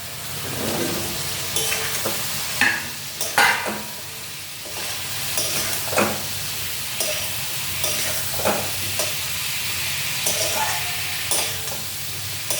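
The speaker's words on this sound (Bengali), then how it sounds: "এখন সজনে ডাঁটাগুলি দিয়ে দিচ্ছি।" Drumstick pieces sizzle loudly in a hot pan for a tasty vegetable curry. Close, steady frying hiss runs throughout with repeated scraping and clattering stirring strokes, and no one speaks.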